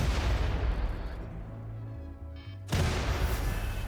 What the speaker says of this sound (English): so now that everybody has their mortar orders, open fire.